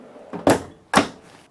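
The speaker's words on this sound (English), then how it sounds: "Below the gas part, you have a huge drawer." A large drawer being pulled open in a 2023 Winnebago Adventurer 35F motorhome kitchen, two quick sliding thumps close by, alone with no talk.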